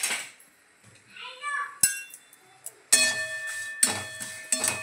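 A spoon clinks and scrapes in a hot kadhai as peeled garlic cloves are stirred, with sharp metallic taps and a short ringing, along with a faint voice in the background.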